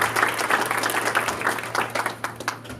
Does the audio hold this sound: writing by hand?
no